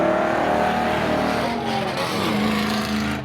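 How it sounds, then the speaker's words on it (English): A GM-powered pickup truck drag races at Seekonk Speedway, its engine roaring loud and steady throughout with a droning, slightly shifting pitch at fairly close range. "Kazunas in that GM-powered pickup truck"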